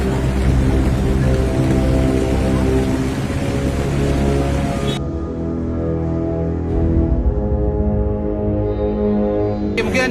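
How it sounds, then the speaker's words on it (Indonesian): Heavy rain pouring during a flood in Sorong, Papua: a dense, loud, continuous roar of rain striking surfaces, steady throughout, with no talk. "Kondisi sekarang hujan makin turun."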